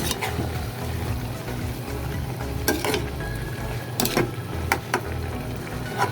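Squid adobo bubbling in a covered pot on the stove, a continuous simmering sizzle with scattered sharp clicks and knocks, probably the lid rattling, and no talking.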